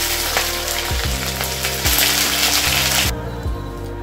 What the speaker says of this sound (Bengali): পাঁচফোড়ন, ফোড়নটাকে আমি ভালো করে ভেজে নেব।